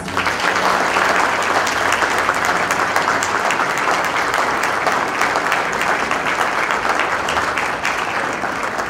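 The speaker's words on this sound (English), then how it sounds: "Please give them a big applause." At a bachelor's graduation ceremony in Suriname, an audience claps loudly and steadily for the full stretch, a dense, even wash of applause with no break.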